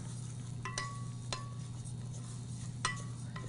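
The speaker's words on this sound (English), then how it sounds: "I'm going to add my millet to the oil that's heating up here and stir that around" Millet grain stirred around in oil heating in a pan, with a few sharp utensil clinks against the pan over a soft steady background hiss, close and sparse.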